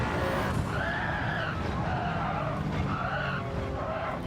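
Tires squeal loudly in repeated wavering screeches over a steady engine drone in the racing game Gran Turismo 7, without any talking.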